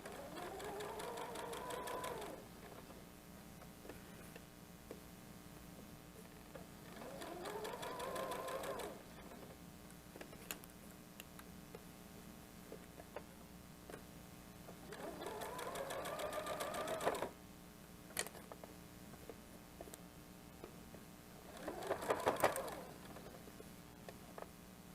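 Sewing machine stitching a fabric water bottle cozy, running over a tab: several separate bursts of fast, steady mechanical whirring and clatter, moderately close, with quiet pauses between runs.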